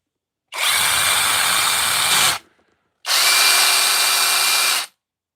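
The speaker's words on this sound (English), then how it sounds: "A Skill 12-volt battery." A Skil 12-volt cordless drill whirs at full speed in two long, steady bursts separated by a short pause, loud and close.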